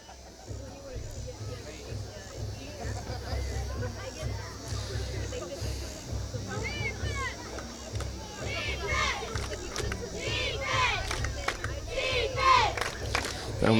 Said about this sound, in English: Now Muleshoe crowd getting into it